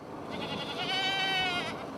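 A goat on Goat Island in Murrells Inlet, South Carolina, lets out one drawn-out, wavering bleat over a steady outdoor background, fairly close and moderately loud.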